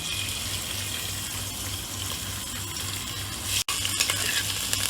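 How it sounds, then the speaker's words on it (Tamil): Finely chopped ginger and garlic sizzle in hot oil for egg fried rice, a steady close crackling hiss that briefly cuts out, then resumes with a few sharper pops. "இதுக்கு கூட நல்ல பொடியாக நறுக்குன ஜிஞ்சரும் கார்லிக்கும் நம்ம ஆட் பண்ண போகிறோம்."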